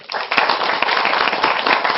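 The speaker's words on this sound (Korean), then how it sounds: "박수로 맞아주시죠" An audience at a talk claps steadily to welcome the next speaker, a former KOICA volunteer, producing dense, loud applause that holds evenly for two seconds.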